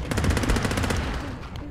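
Rapid automatic gunfire in the underwater shooter game Depth fires as a loud, close, steady burst of shots that fades out near the end.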